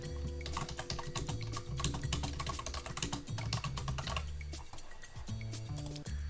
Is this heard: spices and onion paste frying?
no